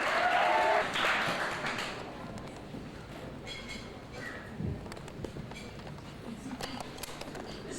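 Wedding guests clap for the father of the bride, loud at first and then easing into a softer, scattered patter over a low murmur of the room.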